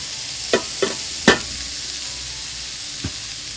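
Shrimp, chicken, vegetables and cooked noodles in a stir-fry, with a soft, constant sizzle broken by several sharp scraping and clanking stirs of a utensil against the pan.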